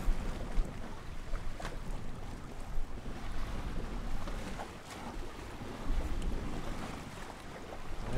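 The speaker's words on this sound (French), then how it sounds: "Il y a un petit peu de vent." Gusty wind buffets the microphone in a steady, rushing roar, with faint water and boat-like sounds beneath; no one speaks.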